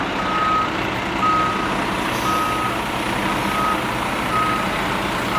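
A gravel delivery truck reverses through a tight space for a temporary garage, its backup alarm sounding five evenly spaced beeps over a steady, loud engine rumble.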